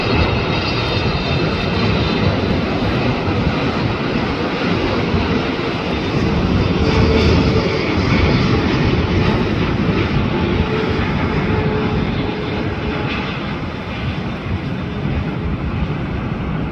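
A Philippine Airlines jet, flight 116 from Manila, passes near LAX with a loud, steady, broadband engine roar that swells slightly in the middle and holds throughout.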